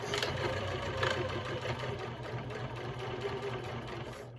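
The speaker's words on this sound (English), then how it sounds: "Needle down, presser foot down, and back stitch." A domestic sewing machine backstitches on a bowler bag, running as a steady, close mechanical whir with a fast, even needle rhythm throughout.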